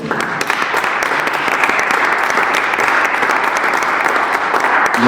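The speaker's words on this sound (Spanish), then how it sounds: "vamos a darle por favor otro fuerte aplauso al maestro" An audience at a lecture on nineteenth-century societies in Durango applauds the speaker, a strong sustained burst of many hands clapping that stays loud and steady throughout.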